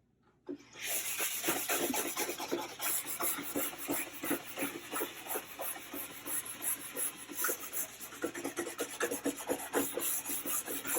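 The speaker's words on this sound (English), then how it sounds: "I'm trying to aggressively polish the surface to give us a really glossy, shiny base to this ski." Brush strokes rub steadily across a hot-waxed ski base being polished to a gloss, a close, continuous rasping scrub with quick repeated passes, alone with no voices.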